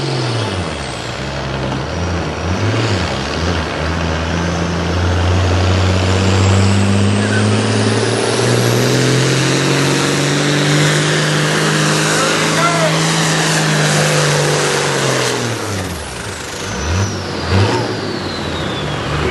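A Ford pulling tractor with a Genesis engine and turbo roars at a Langford, New York pulling event, the engine rising in a long sustained rev that builds and then drops off, loud and near, with talk over it.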